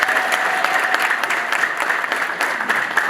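Audience applause for invited guests at a church gathering, a steady dense clapping from many hands filling the room, continuous and fairly loud throughout.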